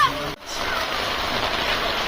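Rain falls onto a village fish pond in Bangladesh, a dense, steady hiss of drops hitting the water surface, close and unbroken apart from a brief dip near the start.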